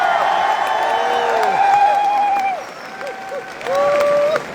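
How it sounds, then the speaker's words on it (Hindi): A big anniversary-event crowd claps and cheers loudly, with voices whooping and calling out over the dense applause, which dips briefly before swelling again. "एक बार जोरदार ताली बजाइए"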